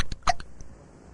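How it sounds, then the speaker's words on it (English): A cartoon boy hiccuping in an animated comedy, a few sharp close hiccups in quick succession with a brief squeaky accent, then fading to quiet. "This is the worst case of hiccups we've ever treated"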